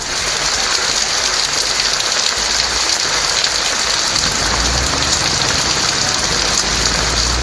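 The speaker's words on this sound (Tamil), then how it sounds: "பரவலாக மழை பெய்தது" Heavy rain pours down across the suburbs of Chennai as a loud, dense, unbroken hiss of drops hitting surfaces, steady from start to finish with no voices.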